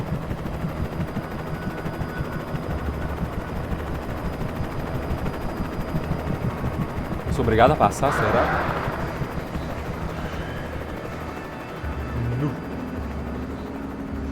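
Damaged helicopter in the video game Alan Wake, a loud burst of rotor, crash and impact noise around the middle over a constant rumbling game soundscape, with someone talking excitedly throughout.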